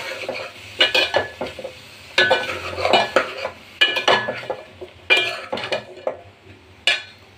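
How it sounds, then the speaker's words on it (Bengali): Bottle gourd being stirred into a fish curry in a pan, with repeated spoon scrapes and metallic clinks against the pan at an irregular rhythm and a faint sizzle underneath. "মিক্স করে দেব"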